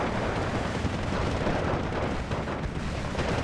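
Grenade explosions in the Steel Division 2 WW2 strategy game merge into a steady, loud, rumbling barrage of blasts and battle noise with no clear gaps.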